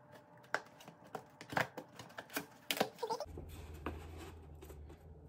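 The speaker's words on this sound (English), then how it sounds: "I hate styrofoam. This is like cringy to hear and touch right now." Styrofoam packaging is handled during an unboxing of adjustable dumbbells, giving close squeaky scrapes and crinkles in uneven bursts, then a steadier low rubbing hum near the end.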